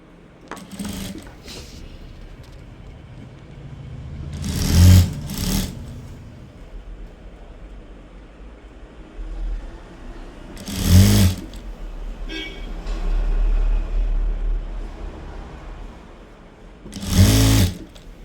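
Sewing machine stitching the side seams of a skirt in three short, loud bursts separated by long quieter gaps of handling fabric, heard up close.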